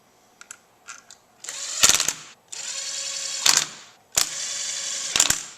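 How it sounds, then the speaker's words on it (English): Torque wrench tightening lower engine bolts on a 1995 Suzuki Sidekick to about 11 Newton meters, a series of close ratcheting clicks in several bursts, each ending in a sharp snap. "I'm going to torque all of these bolts I just put in to about 11 Newton meters."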